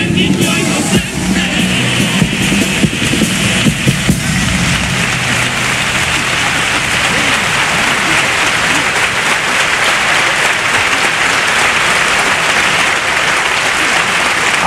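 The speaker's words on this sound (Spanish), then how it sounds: "Aplausos para este paso doble" Carnival crowd at a comparsa semifinal bursts into loud, dense applause after a pasodoble, a continuous roar of clapping filling the whole stretch, with some scattered cheers early on.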